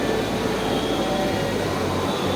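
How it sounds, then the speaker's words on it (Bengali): Metro rail train at Agargaon station in Dhaka, a loud, steady rumbling roar that fills the whole stretch without a break. "আমরা দেখতে পাচ্ছি মেট্রো রেল অলরেডি আসে কিন্তু ঢুকে গেছে।"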